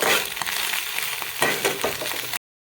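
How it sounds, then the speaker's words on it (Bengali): Eggs frying in oil in a pan for a pea curry, a steady close sizzle and crackle with a few brief stirring scrapes, ending abruptly in silence. "ডিমটাকে আমি বড় বড় করে আমি ভেজে নিয়েছি তুলে নেব"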